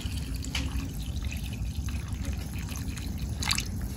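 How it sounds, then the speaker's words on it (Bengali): Water is poured into a cooking pot of chicken bhuna khichuri, a faint trickling and dribbling under a steady low background rumble throughout. "এর ভিতরে জল দিয়ে দিচ্ছে পরিমাণ মতন"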